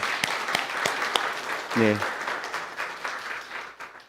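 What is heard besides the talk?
church congregation applauding to welcome visitors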